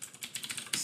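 Keystrokes on a computer keyboard while entering code, a quick run of light, close clicks ending in a slightly louder tap, with no voices.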